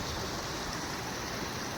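Rainwater rushing down the Maha river after heavy rain, a steady, dense broadband roar of flowing water that holds constant and fairly loud throughout, with no voices.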